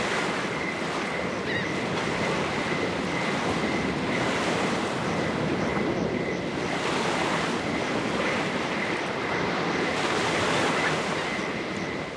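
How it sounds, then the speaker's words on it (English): High-tide sea surf from NiBiRu rushes without pause, a broad constant roar of breaking water that swells gently now and then, with a faint steady whine threaded underneath. "One can't go down to the sea during high tide."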